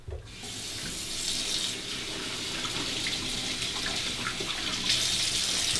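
Bathroom tap running into a sink to warm water for a face before shaving, a steady close splashing rush that starts abruptly and continues evenly, with slight swells as hands move under the stream.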